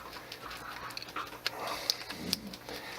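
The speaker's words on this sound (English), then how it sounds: "Now that I have company, the dog's gonna go wild." A dog pants in quick, excited bursts close by, with faint whimpering, as company arrives indoors; no talk, just breathy rhythmic huffing over a low room hum.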